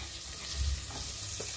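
Large-cut onions dry-roasting in a pan for a paneer curry give a low, steady sizzle and frying hiss, close and even, with a few soft stirring scrapes near the middle and no talking.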